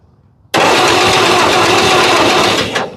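A Ford 8N tractor engine cranks over after a quiet moment, a loud, dense, steady churning roar that runs about two seconds before cutting off, close by with no voices.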